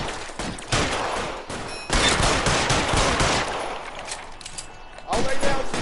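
Rapid bursts of suppressive gunfire from police and criminals in a shootout in the video game LA Noire, loud and dense with repeated volleys, a brief lull near the middle, then another surge at the end, with a voice speaking briefly.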